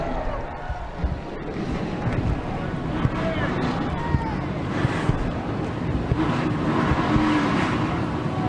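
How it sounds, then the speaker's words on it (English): Race car engines firing up and idling together on the grid at Atlanta in the NASCAR Racing 2003 video game, a steady loud roar of many motors that holds level throughout, with an announcer's voice heard over it. "Drivers, start your engines!"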